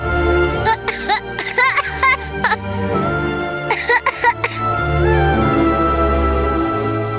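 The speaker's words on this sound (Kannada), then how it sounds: "ಕೆಮ್ಮು" Several short, harsh coughs in bursts, near and loud, separated by pauses with a faint voice-like murmur in between.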